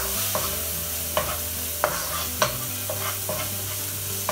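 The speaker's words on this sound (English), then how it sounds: "saute them for a few minutes" Carrots and peas sautéing in a pan for cauliflower fried rice, a steady soft sizzle under a low hum, punctuated by several distinct spatula scrapes and taps, close by, with no talking.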